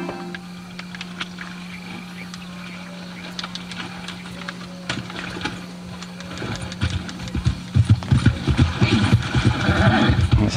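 A horse in a PlayStation game streamed through a car's Android head unit whinnies and walks, with clip-clop hoofbeats that grow louder and quicker toward the end, heard close and alone without talk.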